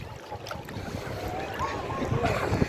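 Steady wind gusting across a microphone at a beach, a continuous low rumbling buffet that swells and eases throughout with no talking.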